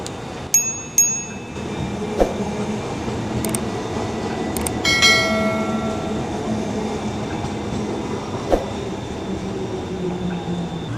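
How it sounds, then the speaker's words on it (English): A train rolls past in downtown Houston, heard during an e-bike ride, with a steady rumbling wash of rail noise, a few sharp metallic clanks and a brief squealing screech partway through. "Here's the train coming, so we're probably going to have to wait for that to pass."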